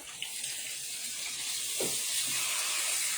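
Steak sizzling in a pan as it is flipped: a steady hissing fry throughout, close and moderately loud, with a brief thump and swell of sizzle as the meat is turned.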